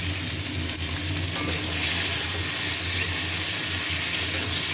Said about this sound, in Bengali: কালো জিরে ফোড়ন আর এই সবজিগুলো দিয়ে দিচ্ছি একটু ভাজা করবো সবজিগুলো